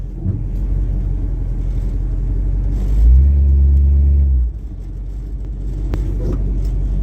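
A Pontiac Firebird's noisy engine rumbling steadily up close, swelling into a louder, deeper rumble for a second or two before dropping back to a lower idle.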